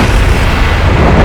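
One grungy explosion layer from a music production session sounds as a dense, loud, distorted rumbling burst, sustained and heavy in the low end.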